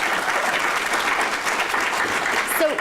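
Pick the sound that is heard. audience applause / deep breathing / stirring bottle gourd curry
audience applause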